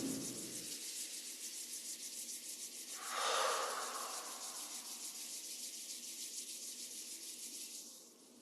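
Palms rubbed briskly together during a qigong session, a steady soft hissing friction that runs for several seconds with a brief louder swell midway, heard alone and close.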